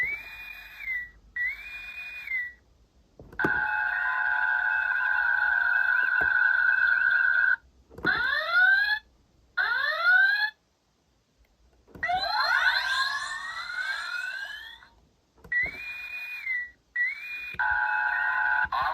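Electronic sound effects from a 2022 Playmates USS Enterprise NCC-1701 toy starship: bursts of warbling whistles, descending zaps and laser-like sweeps, separated by short silences, with no speech.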